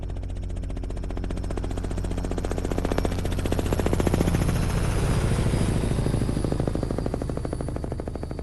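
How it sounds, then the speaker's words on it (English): Robinson R66 helicopter in a high-noise flight condition with strong blade-vortex interaction, recorded on the ground directly beneath the aircraft: loud, continuous rapid blade slap with a steady rhythmic pounding that swells slightly mid-way. "first we're going to start with a high noise condition in the center underneath the aircraft."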